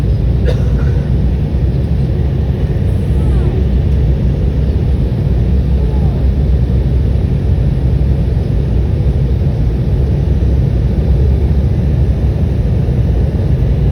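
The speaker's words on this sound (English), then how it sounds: "We are starting to land" Inside an airliner cabin on a landing approach into Atlanta, a loud, steady low rumble of engines and airflow fills the whole stretch without letup. No one talks over it.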